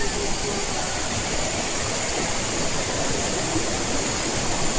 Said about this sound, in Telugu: ఆ వాటర్ సౌండ్కి మీకు అంతగా వాయిస్ వినిపించదు.